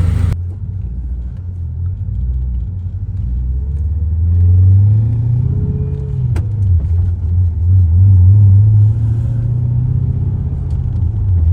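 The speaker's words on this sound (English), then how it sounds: "Transmission's not sounding bad at all." A Mercedes W210 E55 with a swapped-in manual transmission drives along with a steady low engine rumble and road noise, the engine note rising and easing as it accelerates, heard from inside the cabin.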